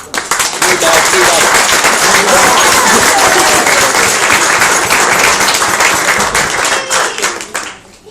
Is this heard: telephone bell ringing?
no